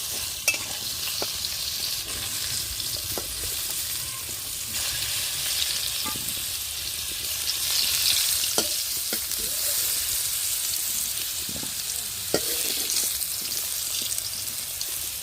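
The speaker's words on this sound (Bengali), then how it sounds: "আলু ভাজা হয়ে হয়েছে এবার তুলে নেব" Potato pieces frying in hot oil in a pan for a village-style meal, a continuous close sizzle with scattered sharp spatters and occasional stirring knocks, no voices.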